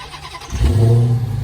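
A 2021 Dodge Charger Redeye Widebody rated at 797 horsepower cranks and fires up, its engine catching with a sudden deep rumble that swells and settles into a loud, close idle growl.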